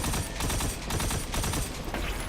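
Continuous rapid gunfire at a target in the video game Destiny 2, dense and loud throughout with no pauses.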